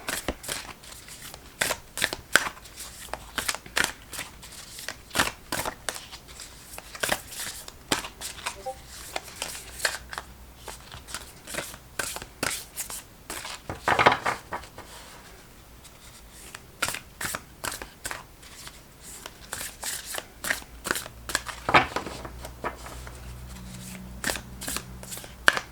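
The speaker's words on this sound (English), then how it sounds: "we're going to just shuffle through for a message for your soul from your future self" Starseed Oracle cards being shuffled by hand, a long run of quick crisp riffling flutters and taps repeating with brief pauses, close and fairly loud, no talking.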